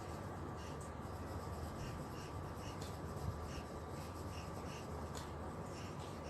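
A pen or pencil writes the label pentagonal prism on an isometric drawing with a mini drafter and scale, a faint continuous scratchy rubbing against paper under low background noise.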